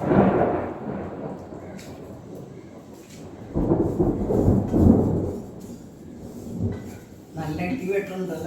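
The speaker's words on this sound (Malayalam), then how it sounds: "ഇടി വെട്ടുണ്ടല്ലേ, നല്ല മഴ പെയ്യാൻ പോകുന്നുണ്ടാണ്." Thunder rumbles ahead of heavy rain while sesame is being roasted in a kitchen; low booming swells rise around the middle and again near the end, with faint household clatter.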